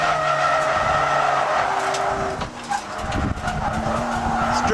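A Honda Prelude drifts down a mountain touge road, its tires squealing in long continuous screeches over a droning engine, loud and close throughout.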